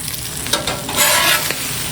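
Bacon frying on an Aldi griddle, a close, continuous sizzle with crackles and spatter pops, briefly louder midway.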